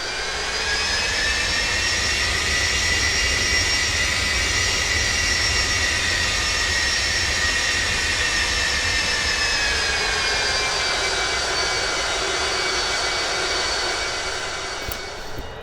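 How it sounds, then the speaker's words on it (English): The jet engines of an Avro Vulcan taxiing in X-Plane 11 give a loud, continuous metallic whine layered over a steady roar, holding even and close for the whole stretch. "Oh, listen to that metallic whine. That is such a signature sound of the Vulcan."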